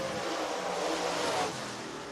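A race car on a qualifying lap at Lake Cumberland Speedway in Burnside, Kentucky swells in a distant engine roar as it comes around, then fades away.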